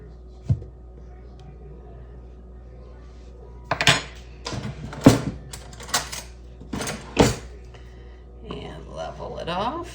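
Flour spooned into a measuring cup, a few scattered taps and clinks of spoon on cup and bowl among quiet stretches, with soft speech.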